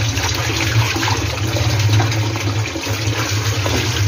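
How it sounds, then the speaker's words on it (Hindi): Okra being washed under an open, running kitchen tap: a steady, fairly loud stream of water splashing continuously throughout, close by, with no talking. "इस तरह खुले पानी में धोएंगे।"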